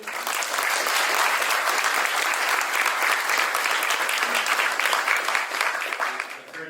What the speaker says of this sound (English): Give one more round of applause for this.